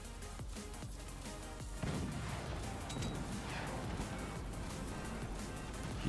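Cannon fire in the Forts RTS game, a series of faint thuds and bursts layered into a busy stretch of battle noise, with a louder onset partway through.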